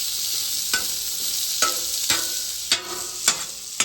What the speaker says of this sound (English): Just mixed up the veggies a little bit